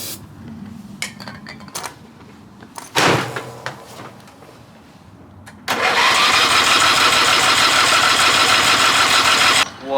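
A Yard Bug riding mower lawn tractor sputters through a few cranking attempts, then catches and runs at a loud, steady roar for several seconds before suddenly cutting off.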